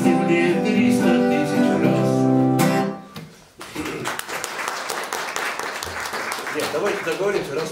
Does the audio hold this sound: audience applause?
yes